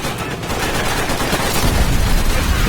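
In World at War, a set-off ammo cache pops and crackles in dense, rapid bursts of small-arms-like fire, a loud continuous rattle that grows heavier and deeper toward the end.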